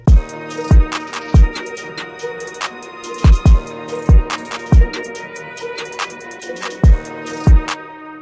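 A trap-style beat in a producer's session with a booming kick drum added, deep descending 808-like thumps landing in an uneven rhythm under bright snares, hats and a sustained melody, loud and continuous.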